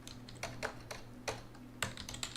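Rapid, uneven keystrokes on a computer keyboard in a classroom, soft clicks tapping out in short bursts, close and fairly quiet with a low steady hum underneath.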